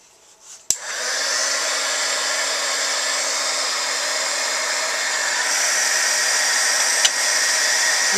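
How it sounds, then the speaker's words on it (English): A handheld heat embossing tool blows hot air over stamped, powder-embossed flower images, starting with a click and a steady, loud whooshing hum that runs on alone with no talk. "And then we'll go ahead and use the heat embossing tool"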